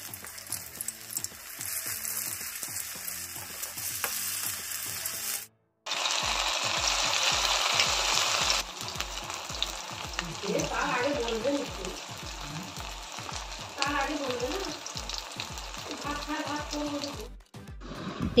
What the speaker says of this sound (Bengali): আর আমি কড়াই গরম করে তেল দিয়ে পকোড়াগুলো ছেড়ে দিচ্ছি